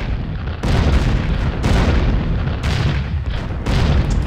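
Repeated heavy bomb blasts from a Falcon 4 Allied Force flight sim, four loud booming bursts about a second apart over a constant jet-engine roar, with no voices.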